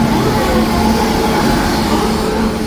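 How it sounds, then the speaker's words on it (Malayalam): A train pulls into a station on a Mayiladuthurai-to-Mysore route, a steady loud rumble of wheels and carriages with a low hum running throughout, no voices. "ഞങ്ങളിവിടെ ഇങ്ങനെ വെയിറ്റ് ചെയ്ത് നിൽക്കുന്ന ആ ഒരു സമയത്ത് ഇതേ വേറൊരു ട്രെയിൻ വന്നു"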